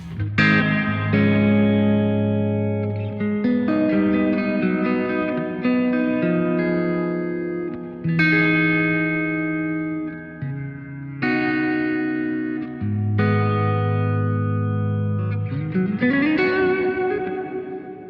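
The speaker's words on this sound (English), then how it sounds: "I can then go ahead and add more reverb if I want" Sustained electric guitar chords through a BOSS RV-500 reverb pedal ring out one after another, each tail washing into a long, spacious reverb.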